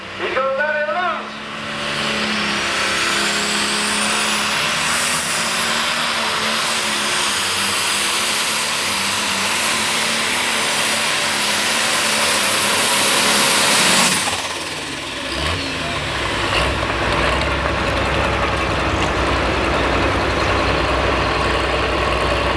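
A Super/Pro Stock pulling tractor engine winds up to full power with a loud, sustained roar and rising turbo whine for about twelve seconds, then cuts off abruptly and falls to a lower rumble.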